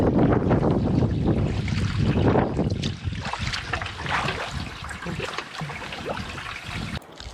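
Steady wind roars and buffets the microphone while canoeing on a lake in Algonquin Park, with faint water trickling and lapping against the boat beneath, loud and continuous with no talking.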